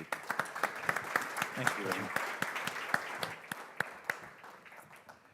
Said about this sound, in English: I'd like you to ask you to leave the stage with a round of applause